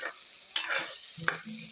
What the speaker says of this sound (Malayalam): അപ്പോൾ നമ്മുടെ ചട്ടിയിൽ ഇരിക്കുന്ന നല്ലോണം ഒന്ന് ഇളക്കി കൊടുക്കാം